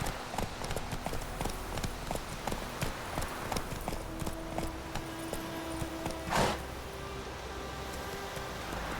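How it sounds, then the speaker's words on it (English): A horse trots in The Witcher 3, its hooves clip-clopping in a steady rhythm close by over faint ambient rustle, with one brief louder swish near the end. "Giddy up. Not so fast, Roach"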